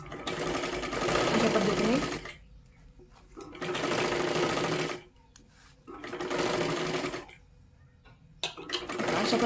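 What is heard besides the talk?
sewing machine stitching a double seam on a blouse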